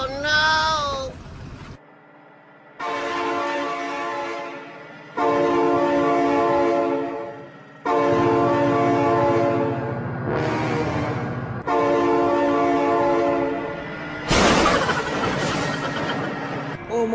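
Train horn blasts sound in a series of long sustained tones, separated by short pauses, loud and near, with a brief harsh burst near the end.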